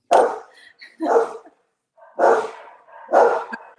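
A dog barks in several loud, close bursts as a delivery arrives, with short pauses between the barks and no talk over them.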